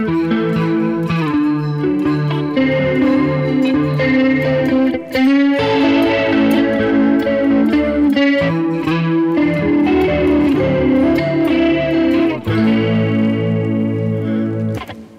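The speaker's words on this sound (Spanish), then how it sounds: "es un poco de overdrive con un chorus" Electric guitar with light overdrive and a chorus modulation effect, in an 80s glam rock style; loud sustained chords and melodic lines ringing continuously without speech.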